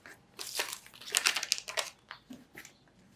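A small paper scrap for scrapbooking is handled, giving close, crisp crinkling and rustling in uneven bursts with brief pauses between, with no talk.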